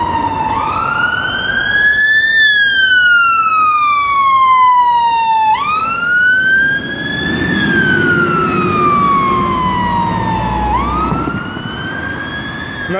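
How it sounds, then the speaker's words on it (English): A fire engine siren wails loud and close, sweeping up and down in long repeating cycles as the truck passes on a town street. "There's a fire engine coming out."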